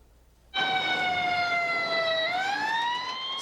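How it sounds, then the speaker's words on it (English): A single emergency-vehicle siren in a city street comes in abruptly and loud, a long steady wail that dips slowly and then climbs, heard alone with no voices. "Anywhere in the city, you'll always hear sirens."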